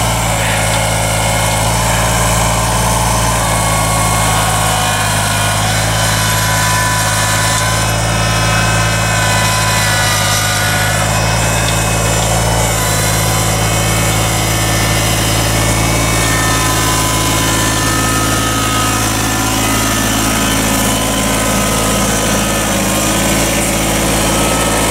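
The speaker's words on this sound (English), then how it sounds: "Just a little 23 horsepower Kubota with a loader." A 23 horsepower Kubota tractor fitted with a loader runs steadily in a wood lot, its engine drone continuous and close for the whole stretch, with no talk over it.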